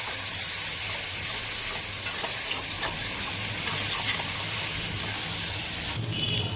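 Vegetables frying in a pan with salt, turmeric and sugar, giving a steady, loud sizzle that runs the whole time, with occasional stirring scrapes and a brief clatter near the end.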